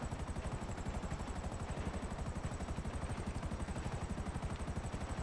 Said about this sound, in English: This is a stealth chopper, but it's got rotors.